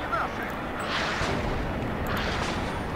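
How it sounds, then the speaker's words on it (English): Artillery barrage landing on a unit in the real-time strategy game WARNO, a continuous rumbling roar of dense explosions sustained throughout at steady loudness, with no distinct individual blasts standing out. "So you got hit by a barrage."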